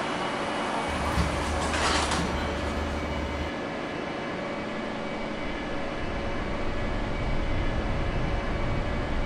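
A Roblox video-game subway train, an R40M on the PTA 5th Avenue line, rumbles steadily throughout, a continuous low mechanical drone with a brief hiss near the start, no voices.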